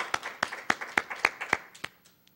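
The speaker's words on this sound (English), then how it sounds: "I want you to stand up for well-deserved applause also, Melissa Hodroff." A small audience claps in a short burst of about eight distinct, fairly quiet claps at a steady rhythm, trailing off after two seconds, with no voices.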